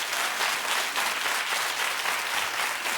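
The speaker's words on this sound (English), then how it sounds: "keep clapping for Chloe having a new man in her life." A television talk-show studio audience applauds in a dense, continuous wash of clapping, loud and even from start to finish with no voices.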